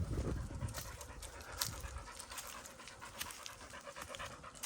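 A dog pants close by in quick, rhythmic breaths, steady and moderately loud over faint outdoor background noise, with no talking.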